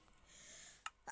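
A person's sneeze indoors during a house tour, a short sharp burst followed by a second brief one, close and fairly faint with no talk over it.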